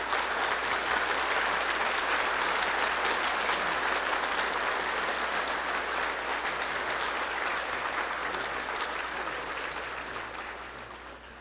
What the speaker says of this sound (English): grand applause to her